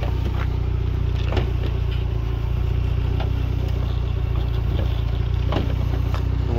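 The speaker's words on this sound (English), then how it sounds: "Nice clean engines ticking over nicely." A 1994 Volkswagen Corrado 16V engine idles steadily with a low, even drone and light mechanical ticking, heard alone at close range with no talk.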